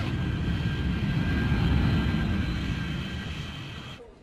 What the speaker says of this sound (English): It's our first flight coming in,